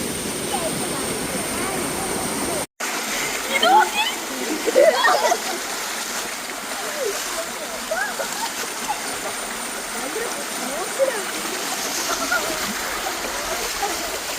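Steady rushing water flows throughout, a continuous broadband wash with a few louder splashy bursts and faint voices nearby.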